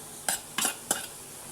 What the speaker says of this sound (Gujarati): એક ટમેટાને મેં નાના ટુકડામાં સુધારીને લીધું છે, તો તેમાં તેને નાખી દઈએ.